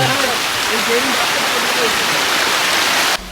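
A small waterfall on the Napittachhara trail near Sitakunda pours in a loud, close, unbroken roar of falling water, with a voice faintly underneath, before the sound cuts off abruptly at the end.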